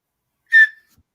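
Man imitating a whistle heard in the woods while recounting a Bigfoot encounter in Indiana: a single short, clear whistle note with a slight downward tail, close and alone in silence.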